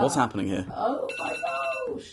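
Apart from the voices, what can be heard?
mobile phone alarm ringing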